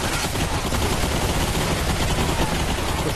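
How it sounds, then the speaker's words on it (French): Dense, continuous gunfire from a fight in the VR shooter Bulletstorm on Quest 3, a loud unbroken wash of rapid shots with no clear pauses. "Qui c'est qui me tire dessus, là?"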